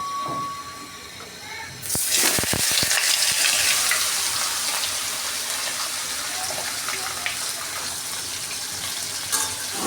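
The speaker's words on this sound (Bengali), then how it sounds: "এখন আমি মাছগুলো কড়াইতে দিয়ে দেবো" Fish (baim, eel-like) dropped into hot oil in a wok bursts into a loud, steady sizzle after a quieter start, with a few sharp spatters as it hits, then a sustained crackling fry close by.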